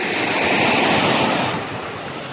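Sea waves at a beach on a rainy day, a loud continuous wash of surf mixed with wind buffeting the microphone, easing slightly toward the end, without talking.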